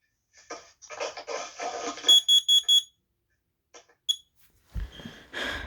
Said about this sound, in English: This is a very basic carbon monoxide alarm. Give it a test.